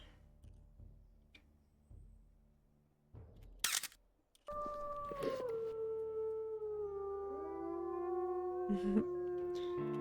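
A wolf howls in the WolfQuest video game, a long rising and falling call that starts abruptly after quiet clicks and small noises and holds clearly for several seconds, with a second howl layering in.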